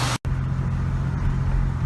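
A 1989 Oldsmobile Toronado Trofeo engine idles steadily up close, a low, even rumble that carries on without a break after a brief cut near the start.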